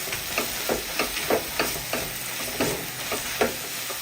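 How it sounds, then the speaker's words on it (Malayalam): Stirring sautéed onions coated with spice powders in a hot pan, a rhythmic series of scraping strokes about twice a second over a constant sizzle, close and clear with no talking. "പൊടിയുടെ പച്ചമണം മാറി കിട്ടുന്നവരെ ഒന്ന് ഇളക്കി കൊടുക്കാം."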